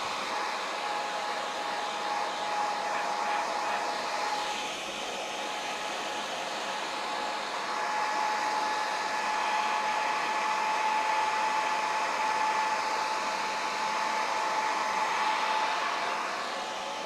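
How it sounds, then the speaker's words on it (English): A hair dryer blows steadily at close range while drying a sheet of newspaper, a constant whooshing hiss with a faint tonal whine that holds without pause throughout. "So don't mind the noise of the hairdryer right now."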